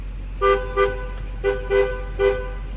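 Five short, buzzy horn blasts from a 2010 Chevrolet G4500 ambulance sound in an uneven rhythm, each lasting a fraction of a second, with a low engine-like hum underneath.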